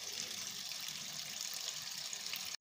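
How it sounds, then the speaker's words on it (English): Tap water runs steadily as chicken curry ingredients are washed in a home kitchen, a faint, even gushing stream that cuts off abruptly at the end. "we will now wash every other thing that is here"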